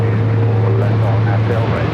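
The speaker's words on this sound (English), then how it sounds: "Airways Flight 282 heading back to London Heathrow on the 777 at 300ER, looking like a north side takeoff" A Boeing 777-300ER jet taking off from a runway at LAX, a loud, steady engine roar with a strong low drone, heard close and continuous.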